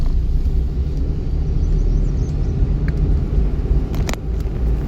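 A car engine running during a driving lesson, a loud continuous low rumble with the engine revved under throttle, heard from inside the car with no one talking.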